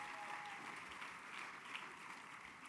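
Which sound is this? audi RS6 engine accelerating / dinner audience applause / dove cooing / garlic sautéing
dinner audience applause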